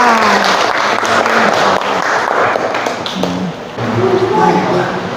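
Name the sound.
students applauding in a classroom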